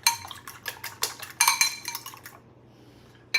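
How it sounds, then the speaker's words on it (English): Four eggs being lightly beaten in a mixing bowl for pumpkin pie batter, giving a run of quick, close clinking and scraping strokes of utensil against the bowl, then a pause and one last clink. "I have 4 eggs that I'm going to beat slightly before I start the rest of it"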